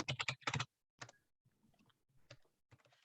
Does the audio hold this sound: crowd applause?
no